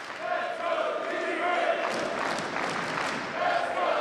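Portland fans cheering and shouting at a Seattle versus Portland table tennis match, a dense crowd roar that swells and stays steady, with voices mixed into it.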